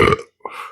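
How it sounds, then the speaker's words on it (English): Someone lets out a loud, close burp after eating a hot pepper, first a rough gurgling release and then a short higher-pitched hiccup-like catch after a brief gap. "Excuse me, pepper burp."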